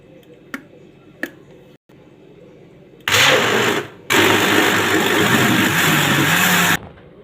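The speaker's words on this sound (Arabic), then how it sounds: "اهو هضرب بقى" An electric blender whirs loudly as it blends fresh oranges with sugar in a home kitchen. Two sharp clicks come first, then a steady roar runs for about a second, cuts out briefly, and resumes for nearly three more seconds before stopping abruptly.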